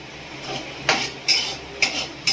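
A girl cooking at a gas stove works a metal spatula around a cooking pan, sending out four sharp, close clinks and scrapes spaced about half a second apart over a low steady hiss.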